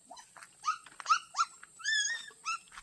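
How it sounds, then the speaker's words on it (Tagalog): Several puppies giving high yips, whimpers and short barks in a rural village yard, a run of close, fairly loud cries spaced across a few seconds, with no voices. "Ay, ang daming tuta ah."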